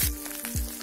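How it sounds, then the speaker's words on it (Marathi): Black masala paste of onion and coconut dropping into hot oil, giving a brief, loud burst of sizzling and crackling up close. "तेल एकदा गरम झालं की त्यामध्ये आपण हा मसाला टाकून घ्यायचा आहे"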